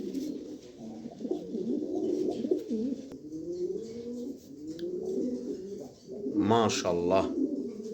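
A pair of pigeons coos in soft, steady rolling calls, with a brief brighter call near the end; someone speaks a single word partway through.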